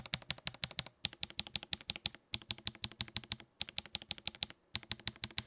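Matcha Green tactile keyboard switches, in stock and two differently lubed versions, typed on in quick, even bursts of crisp clacks, close and clear, with brief pauses between runs.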